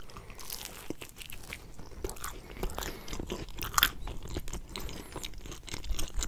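Crisp bites and wet chewing of Chuck E. Cheese pepperoni pizza sound up close, irregular crunches and soft mouth sounds spaced through the quiet with no talking.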